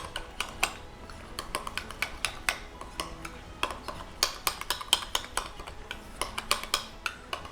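A spoon clinks and scrapes against a bowl while egg seasoned with salt and cracked pepper is mixed, giving a quick, irregular run of close metallic taps and clatters with no talking.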